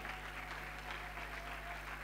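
A church congregation at a Sunday praise and worship service claps in dense, steady applause for a newly married couple. The applause fills the room evenly throughout.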